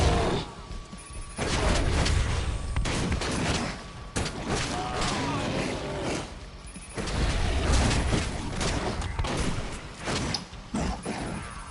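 Explosions and bursts of gunfire in the PS4 werewolf action game, loud booms and rattling blasts in two heavy clusters separated by a quieter stretch, with faint talk mixed underneath.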